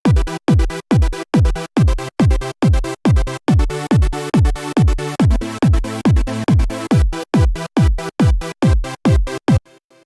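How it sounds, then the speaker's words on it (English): A trance gate preset from the SideKick2 sidechain plugin chops a sustained sound into rapid rhythmic pulses, each with a sharp dropping kick-like attack, loud and steady for about ten seconds before cutting off. "the first three on the bottom row are Trance Gates"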